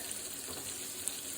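Onions sizzle in a frying pan with a faint, steady hiss that stays even and uninterrupted.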